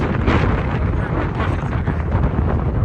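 Cold wind blows across a mountain hiking trail, buffeting the microphone in a steady, loud, rough rush that gusts slightly and carries on without a break.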